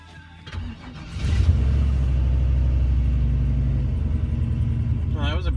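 A turbocharged Chevrolet Colorado cranks over on a cold 23-degree morning, then catches and settles into a loud, steady idle rumble. A brief voice is heard near the start.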